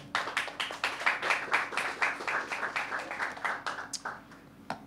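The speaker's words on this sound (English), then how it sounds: "Let's welcome them on the stage with a round of applause." An audience at a startup demo semifinal claps in a steady, rhythmic round of applause as a company comes on stage, close and moderately loud, easing off near the end.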